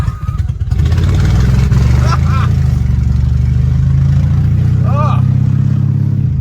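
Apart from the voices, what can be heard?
Mercedes W123 car engine running after jump start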